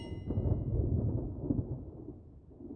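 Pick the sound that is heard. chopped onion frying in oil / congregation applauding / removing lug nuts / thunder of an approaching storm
thunder of an approaching storm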